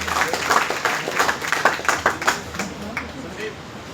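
Audience at a police line event on cyber fraud clapping in applause, a dense burst of many hands that peaks early and gradually thins out over a few seconds.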